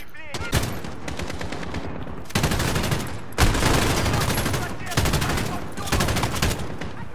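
Loud, rapid automatic gunfire in Call of Duty, coming in several long sustained volleys separated by brief gaps, close and dominant throughout.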